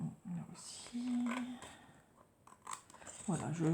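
Scissors cut through thick paper during a craft session, giving a few short snipping bursts up close, with a French-speaking voice talking around them.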